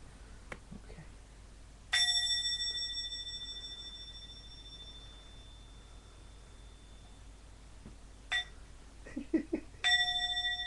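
A meditation bell struck twice in a quiet room, each strike a clear ringing tone that sustains and fades slowly, the second coming near the end after a few soft rustles, with a cat nearby during zen sitting.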